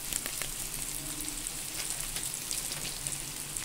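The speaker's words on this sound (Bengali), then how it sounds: "এই যে রসুন, আদা, পেঁয়াজ, টমেটো সব ছেড়ে দিয়েছি। এবার হালকা ভাজা দেবো।" Garlic, ginger, onion and tomato fry lightly in a pan, giving a close, steady sizzle and crackle with a few faint stirring sounds and no talking.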